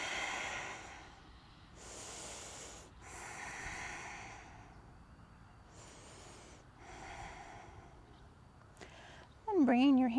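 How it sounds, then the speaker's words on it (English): Slow, deep yoga breaths alternate between long airy inhales and exhales, several breaths in sequence, close and fairly quiet, ending as a voice begins to speak. "Breathing in and out,"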